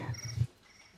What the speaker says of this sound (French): c'est le fameux grillon que j'avais mis en place quand en fait on parle trop longtemps